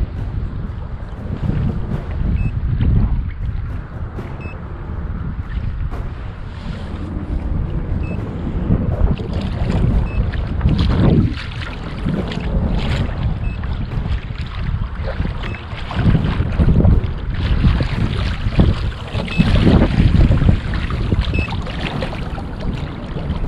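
Continuous motor drone and wind buffeting as a boat trolls across Lake Arthur, Pennsylvania, steady and close, with gusty rumble rising and falling throughout.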